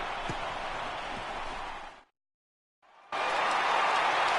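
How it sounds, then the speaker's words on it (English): A home crowd roars in the MLB The Show 18 baseball video game during the NLCS against the Philadelphia Phillies in the bottom of the 8th, a loud sustained cheer that cuts out briefly and then returns even stronger. "the home crowd is loving it as they jumped out in front in the bottom of the 8th"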